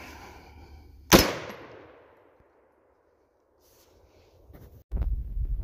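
A single loud, sharp rifle shot from a 50 Beowulf Extreme Penetrator round fired into a level 3 armor plate, followed by a decaying ring-out, a quiet stretch, then a burst of rustling handling noise near the end.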